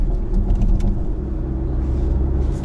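A 2019 Porsche Macan is underway, its engine and road rumble a steady, low drone heard from inside the cabin, with no one speaking.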